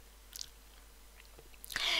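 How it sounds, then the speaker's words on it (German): A person swallows close to the microphone, making faint wet mouth clicks and a gulp against quiet background hiss. "muss ich mal schlucken nebenbei"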